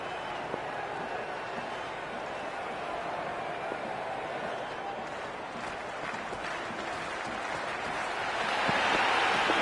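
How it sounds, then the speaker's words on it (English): A dense, continuous crowd roar fills a cricket stadium in the video game Cricket 26, a broad wash of cheering and murmur that swells slightly louder toward the end. "There's a buzz, a real buzz coming from the stands."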